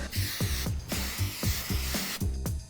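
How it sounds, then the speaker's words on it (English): Short bursts of spray mount adhesive hiss out in a quick repeating rhythm, about five or six sprays, close by with no talking. "secure it just along the edges a little bit with a spray mount adhesive"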